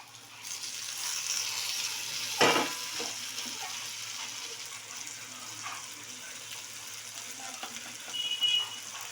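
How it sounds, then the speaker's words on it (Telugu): Crushed garlic and tomato hit the pan in a home Indian kitchen, raising a steady hiss and sizzle with a sharp clatter early on and faint stirring scrapes throughout. "ఇప్పుడు దీంట్లోకి తెల్లవాయలు దంచుకున్నాం కదా, అవి వేస్తున్నాను."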